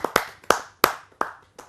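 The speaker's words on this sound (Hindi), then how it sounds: "जोरदार तालियों से मैं आमंत्रित करता" A handful of sharp, separate claps at a Hindi poetry gathering, about five distinct hits spaced roughly a third of a second apart, close and loud with quiet gaps between.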